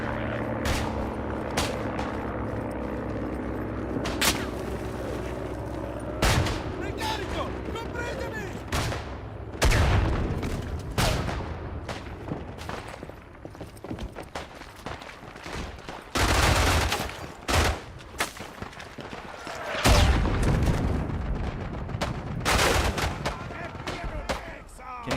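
Artillery shells and gunfire pound repeatedly in the World War I trench warfare game Isonzo, with loud booming blasts at irregular intervals layered over continuous battlefield noise and a voice talking at times.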